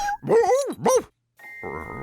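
A cartoon dog in a Curious George episode gives two loud, close, tonal barks, followed by a brief pause, a soft bell-like ding and a lower growling grunt.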